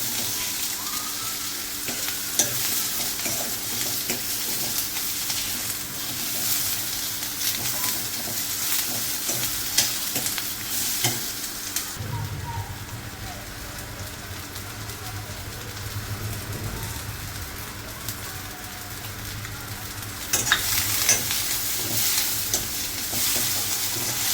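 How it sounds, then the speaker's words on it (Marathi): Onions fry in a pan for chole while a spoon stirs them, producing a continuous loud sizzling hiss with stirring scrapes, steady and close, without talk. "व्यवस्थित कांदा आणि भाजून घ्यायचे आपल्याला. थोडा गुलाबी कलरवर आला टमॅटो टाकायचे आपल्याला."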